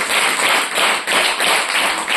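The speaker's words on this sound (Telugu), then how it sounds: "కొట్టండి చప్పట్లు గట్టిగా" A church congregation claps loudly in a sermon hall, bursts of applause rising and falling in quick waves over about two seconds.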